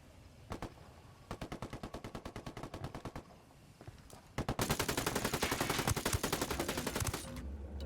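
Automatic rifle fire from a Ghost Recon Wildlands firefight: several rapid bursts with brief gaps, then a long loud sustained volley with dense overlapping shots, no talk.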